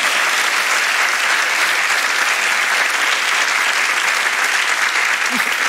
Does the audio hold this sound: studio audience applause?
yes